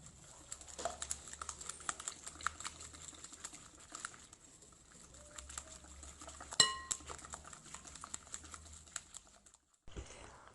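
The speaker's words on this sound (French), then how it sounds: "Puis le sucre et je fouette." Sugar being whisked into cake batter for a butterless cake, a quick, rhythmic patter of whisk clicks against a bowl, close and fairly quiet, ending with a short pause.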